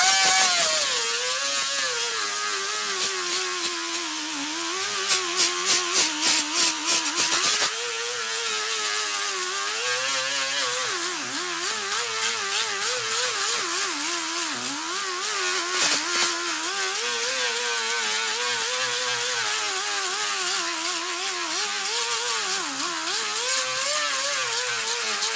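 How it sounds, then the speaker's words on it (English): A small pneumatic grinder with a worn, slightly smaller disc runs on sheet-metal fabrication work, giving a steady, loud high-pitched whine throughout, with brief pulsing bursts early on and slight pitch dips as it bears down on the metal. "So I got my little pneumatic grinder here now."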